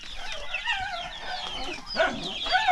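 Native chickens on a small farm cluck and call continuously at close range, with a few louder squawks near the end and no talking.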